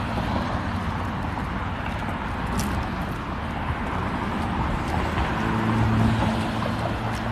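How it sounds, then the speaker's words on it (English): Cars pass on a loud street, a constant broad traffic rumble and road roar that swells slightly toward the end, with no talk over it. "this is like a loud street because there's cars and stuff."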